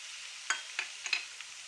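Light sizzling and stirring as garlic-ginger paste and cumin go into onions frying to light golden in a pan for kadhi pakora, with a few soft scraping stir strokes over a faint steady hiss.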